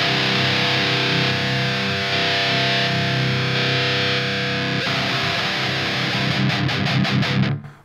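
Heavy distorted metal guitar through POD Farm 2 amp modeling with no equalizer, a dense saturated wall of chords ringing loud and steady, then tight palm-muted chugs near the end before it cuts off abruptly.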